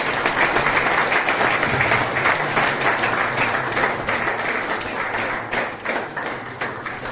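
A large crowd at an Independence Day celebration in a rehabilitation centre applauds steadily and loudly, the clapping slowly tapering a little toward the end, with no talking.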